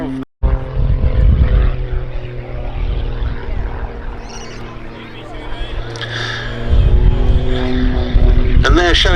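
Propeller aircraft held nearly stationary into the wind at the Duxford summer air show, a loud continuous engine drone that swells and eases across the pass, with a spoken commentary voice running over it.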